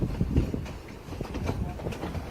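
A train rolls past on the rails with a loud, close low rumble and uneven clanks from the wheels and cars, sounding continuous and heavy throughout.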